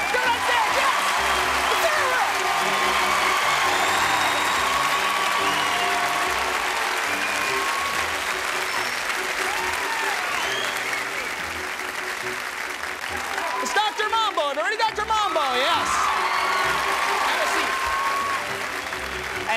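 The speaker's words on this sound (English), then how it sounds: "Give her a nice round of applause." Sustained audience applause from a crowd at a live stage show, steady and loud for the whole stretch, with voices and a few shouts briefly rising through the clapping near the end.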